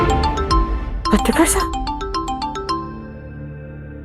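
A phone ringtone chimes in a quick repeating pattern of bright tones, with a person speaking over it briefly in the middle before the ringing continues alone and stops.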